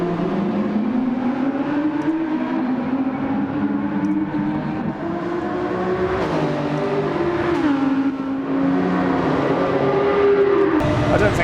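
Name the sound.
Audi R8 race car engine in Gran Turismo 7 video game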